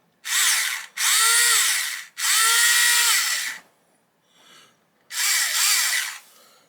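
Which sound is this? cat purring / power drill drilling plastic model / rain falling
power drill drilling plastic model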